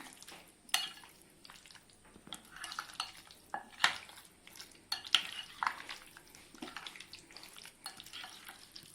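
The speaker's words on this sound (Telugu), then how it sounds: "ముక్కలకి మసాలా అంతా చక్కగా పట్టేటట్టు బాగా కలుపుకుందాం." Chicken pieces being tossed and mixed with tikka masala marinade in a bowl, soft wet squelching and irregular utensil clinks, quiet and close with no talk.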